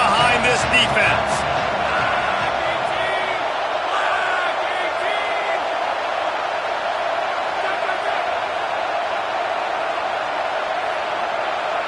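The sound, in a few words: stadium crowd cheering in a football video game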